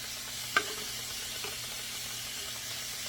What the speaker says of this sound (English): I'm just going to add this garlic in here.